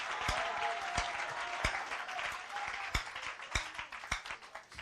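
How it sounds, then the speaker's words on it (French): A church congregation claps during a worship service, fairly quiet and somewhat distant, with a few sharp individual claps standing out from the general applause. "Applaudissons pour le papa."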